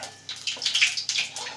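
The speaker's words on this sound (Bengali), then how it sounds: "কড়াইতে তেল দিয়ে দিয়েছি, তেলের মধ্যে জিরে ফোড়ন দিয়ে দিলাম।" Cumin seeds sizzle in hot oil in a kadai, giving quiet bursts of crackling hiss that flare and fade in short uneven waves with no one talking.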